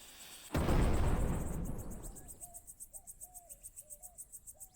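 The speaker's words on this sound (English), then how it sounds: "And an explosion will certainly liven up your article." A single loud explosion bursts open a lab door in the video game Rosewater, a sharp blast with a rumbling tail that fades over two seconds, followed by rhythmic chirping crickets.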